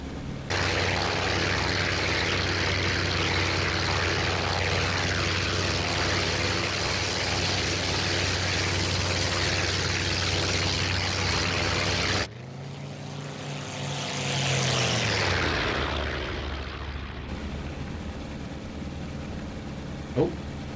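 An A6M2 Zero propeller fighter in IL-2 1946 drones steadily and loudly for a long stretch, then its engine note sweeps down and fades as the plane lands, leaving a softer rumble.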